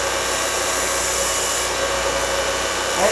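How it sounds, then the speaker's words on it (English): A grinder runs continuously against a blacksmith's steel pritchel, a loud, steady, harsh whine with no breaks for the whole stretch. "Sometimes you're in a hurry, you got to use the grinder."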